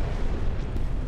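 Cannon fire against bombers in a Star Wars space battle game: a brief, dense burst of booming blasts and deep rumbling impacts, loud and continuous for about a second.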